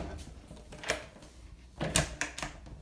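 A door swings shut with a couple of solid thuds followed by a latch or lock clicking into place, moderately close in a quiet room with no talking.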